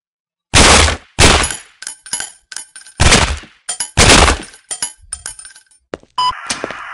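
A breaching charge detonates in the video game Sierra 7 with loud, broadband blasts, several bursts over seven seconds followed by sharp clinking debris and a steady hiss at the end.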